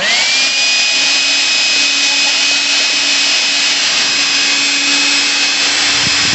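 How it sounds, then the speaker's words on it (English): Vacuum cleaner hoovering out the air filter housing of a 2010 Vauxhall Astra J 1.7 CDTi diesel, a loud, steady close-up whine and rush with a rising pitch at the start, no voices. "the housing will just give it a hoover out"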